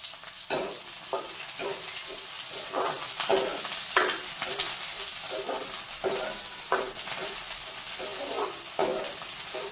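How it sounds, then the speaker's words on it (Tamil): Onion, green chili and garlic frying in oil, a steady sizzle broken by repeated stirring scrapes at a moderate level, no voices heard. "இப்போ வெங்காயம் பச்சை மிளகாய் உள்ளி எல்லாம் போட்டு சேர்த்து பொரிப்போம்"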